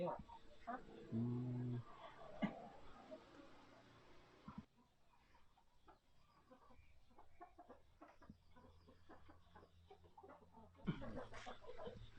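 Chickens cluck near a backyard coop in rural Thailand, with short bursts of hen calls over a steady hum while people talk nearby.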